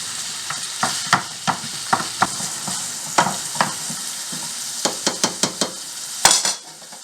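Sausage browning in a pan for goulash is stirred with a spoon, giving a steady sizzle broken by a string of sharp scrapes and knocks against the pan, close and fairly loud.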